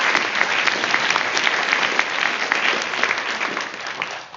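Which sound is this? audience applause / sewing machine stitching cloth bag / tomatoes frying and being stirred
audience applause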